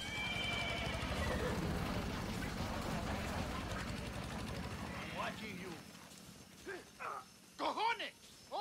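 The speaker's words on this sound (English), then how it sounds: "That's an angry horse." A horse in the video game Far Cry 6 neighs and snorts in a few sharp whinnying bursts near the end, after a stretch of rumbling engine-like noise, with people talking over it.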